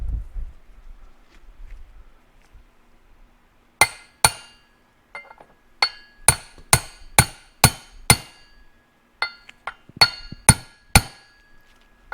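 Sharp metallic hammer taps on a metal part of a Suzuki TS250 motorcycle, a dozen or so ringing strikes in uneven clusters after a quiet start, close and clear.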